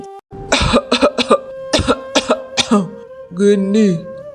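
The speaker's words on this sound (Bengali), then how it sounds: "আজকাল কাশিটা খুবই বেড়েছে" A person coughs repeatedly in short, harsh bursts close to the listener, followed by a throat-clearing, groan-like vocal sound.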